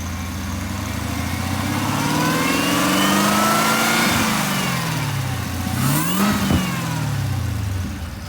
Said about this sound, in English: Alright, so that's just it, revving it.